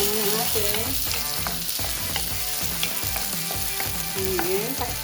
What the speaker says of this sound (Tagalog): haluin naman natin